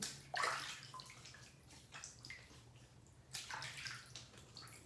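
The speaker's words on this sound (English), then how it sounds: "So I'm gonna wet the face and we'll get started." Water splashes and sloshes as a face is wet by hand before a double-edge razor shave, in soft irregular bursts close by with a faint background hum, fairly quiet overall.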